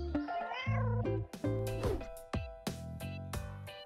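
A cat meows repeatedly in a series of loud, close, tonal cries with rising and falling pitch and several sharp onsets, with no voices.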